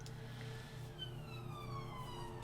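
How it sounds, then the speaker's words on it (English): An ambulance siren wails faintly from outside, its rising and falling tones drifting past at a distance over a low background hum. "Another bloody ambulance?"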